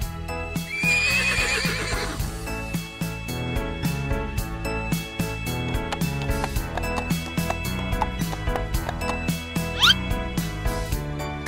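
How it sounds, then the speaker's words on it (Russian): A horse whinnies loudly near the start, then a steady, rhythmic clip-clop of hooves runs throughout, with another brief whinny near the end, in a cartoon-style setting for a children's animal lesson. "Лошадь."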